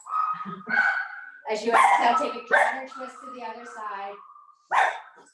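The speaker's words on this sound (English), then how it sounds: "sorry about the dog." A dog barks and yips intermittently during a yoga session, while an instructor talks calmly over it, the dog's sounds mixed under and between the speech.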